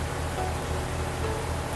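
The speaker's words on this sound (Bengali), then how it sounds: "হঠাৎ করে কোন সময় বৃষ্টি শুরু হয়ে গেল।" Steady rain hisses evenly and fairly loudly in the Bus Simulator Indonesia (BUSSID) video game, a continuous wash of falling water with no talking over it.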